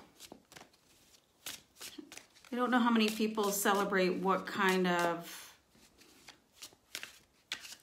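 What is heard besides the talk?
shuffling tarot cards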